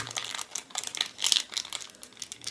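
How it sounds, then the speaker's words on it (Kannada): A thin metal foil sheet being folded by hand, giving close, quick crinkling and crackling bursts that come in uneven clusters, with no talking. "ಇದು ಸಂಪೂರ್ಣ ಆಗಿದ ನಂತರ ಈ ಈ ತಗಡನ್ನು ತಾವು ಮಡಿಸಿ"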